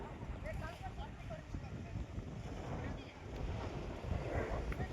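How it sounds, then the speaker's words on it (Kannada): Strong wind blows across an outdoor temple site, a loud buffeting rumble hitting the microphone throughout, with people talking underneath. "ತುಂಬ ಗಾಳಿ ಬೀಸ್ತಾ ಇದೆ"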